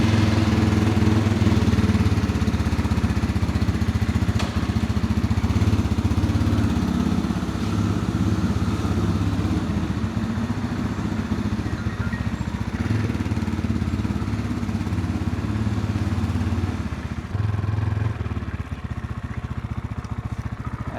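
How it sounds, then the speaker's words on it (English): An RPS Cruiser 300 motorcycle rides out toward a beach, its steady mid-pitched engine droning loudly and continuously with constant wind rush and occasional clatter, easing slightly near the end. "Let's take a cruise out to the beach with the RPS Cruiser 300"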